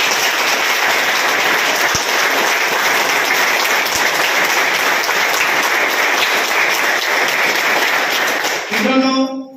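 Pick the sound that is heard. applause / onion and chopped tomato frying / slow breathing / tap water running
applause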